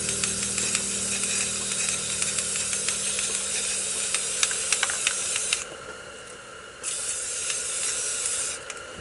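Glow-in-the-dark spray paint hissing from a can while painting a sun for a desert landscape, a loud continuous close spray with the can's rattling clicks, briefly pausing before resuming.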